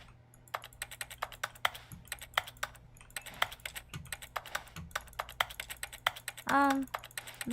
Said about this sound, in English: press L on your keyboard